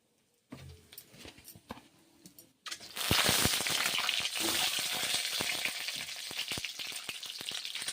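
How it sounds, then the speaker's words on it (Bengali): Black cumin seeds dropped into hot oil, quiet at first, then a loud, dense crackling sizzle that bursts in and stays strong and close. "কালো জিরে দিচ্ছি ভেজে নেবো ভালো করে"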